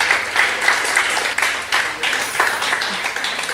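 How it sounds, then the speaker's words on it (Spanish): Church congregation applauding during a Spanish-language sermon, a loud, dense burst of many hands clapping that continues steadily throughout. "¿Puede darle un aplauso a ese Dios?"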